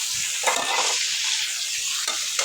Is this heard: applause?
no